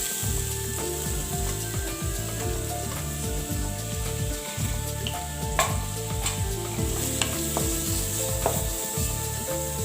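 Cumin seeds and carrot fry in a pan with a constant close sizzle, while the spatula repeatedly scrapes and stirs through the pieces, with no one talking.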